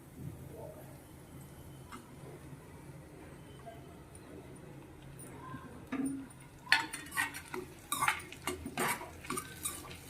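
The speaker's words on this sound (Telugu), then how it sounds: "వేయించుకున్న పల్లీలు ఇలా వేయించుకున్న తర్వాత ఈ ఇడ్లీ ముక్కలు ఇందులో వేయాలి." Fried peanuts and idli pieces for an Idly 65 snack are stirred in a metal pan, starting as a quiet background hiss and turning into a run of clanking, scraping spoon strokes in the last few seconds.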